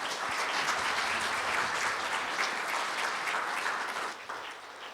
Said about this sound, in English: a big round of applause for Jayanti Behan